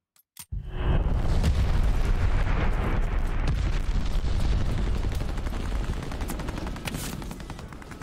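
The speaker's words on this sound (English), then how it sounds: "Enemy glide bomb incoming!" Glide bomb explosions in Call of Duty Vanguard begin with a couple of sharp cracks, then a massive rumbling blast whose roar sustains and slowly fades over several seconds, with a few scattered pops on top.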